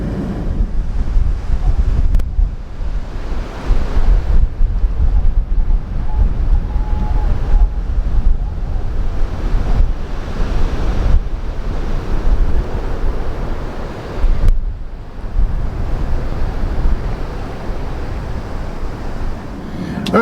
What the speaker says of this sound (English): we got like a 25-mile-an-hour wind right now in the area